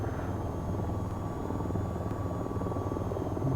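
An AH-94 attack helicopter in the VTOL VR flight game flies with a steady, loud rotor and engine drone that holds evenly throughout, with no talking.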